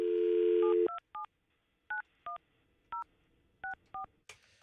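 Touch-tone telephone dialing: a steady dial tone cuts off, then a string of about eight short, evenly spaced DTMF key beeps, loud and clear, with no talk over them.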